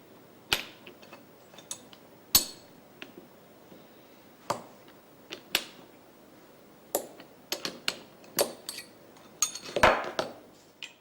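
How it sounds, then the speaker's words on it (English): A roller is unscrewed on a Husqvarna ring saw during maintenance, producing scattered sharp metallic clicks and clinks of tool on metal, close and sparse in a quiet room with no talking. "Unscrew the roller."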